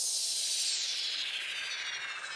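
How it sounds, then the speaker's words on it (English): A white noise riser layered into an electronic color bass track in Ableton, a steady bright hiss sweeping and shifting in tone over a couple of seconds, loud and alone with no voices. "Don't forget the white noise and risers"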